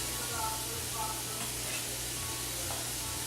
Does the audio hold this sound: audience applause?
no